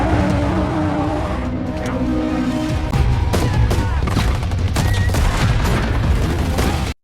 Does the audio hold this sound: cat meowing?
no